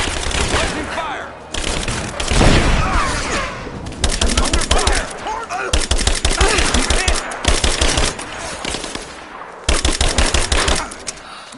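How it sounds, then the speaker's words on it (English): Enemy gunfire in the video game Rise of the Tomb Raider: loud bursts of rapid automatic fire in repeated volleys with brief gaps, mixed with single shots and a few impacts. "Opening fire!"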